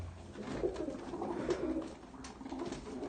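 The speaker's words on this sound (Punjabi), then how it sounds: "ਇਹ ਕਬੂਤਰਾ ਜੋੜ ਗਈ ਆ ਤਾਂ ਹੀ ਬੋਲਦਾ" A mated pigeon pair coos in soft, rolling murmurs, several close throaty calls repeating with short swells across the stretch, with no talking over them.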